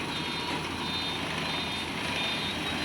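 A dump truck's steady high-pitched reversing beep repeats at a regular rhythm over its constant rumbling engine, at an excavation site.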